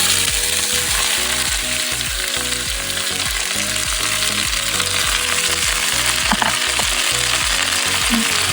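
Chayote pieces and curry leaves hit hot oil in a South Indian palya, a loud, dense sizzle running continuously with rhythmic spatula scrapes and clanks throughout, close by and without talk.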